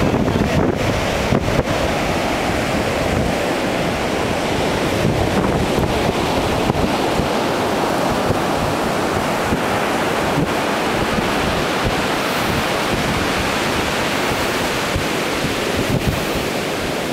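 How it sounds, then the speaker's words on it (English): Steady ocean surf at LaPush beach, a continuous loud wash of breaking waves with wind buffeting the microphone throughout and no talk. "Surf out there."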